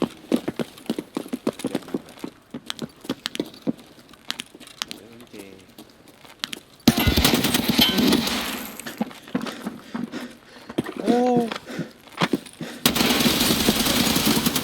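Bursts of gunfire in an Escape From Tarkov firefight, rapid sharp cracks and full-auto strings that grow louder and denser partway through, with excited shouting voices over and between the shots.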